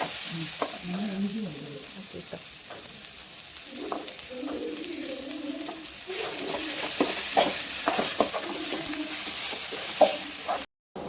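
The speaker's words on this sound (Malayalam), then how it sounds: "നീളത്തിലരിഞ്ഞ പച്ചമുളക് നല്ലതുപോലെ ചേർത്ത് ഇളക്കുക" Long-sliced green chilies stirred in a hot frying pan, giving a steady sizzle broken by repeated scraping strokes of a spoon. The sizzle grows louder and busier in the second half, with no voices.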